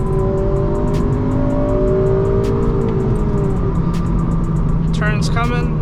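Engine of a 2008 Honda Civic Mugen Si pulling hard in third gear, a loud steady drone with rising tonal whine filling the whole stretch, with a brief voice near the end.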